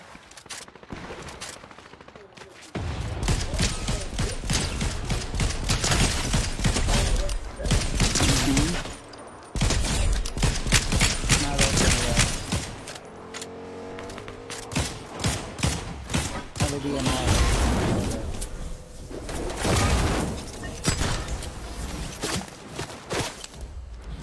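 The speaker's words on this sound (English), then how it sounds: "who the fuck is shooting at me?" Gunfire in the video game Fortnite: repeated bursts and volleys of shots, loud and close, crackling through much of the stretch with footsteps and thuds between.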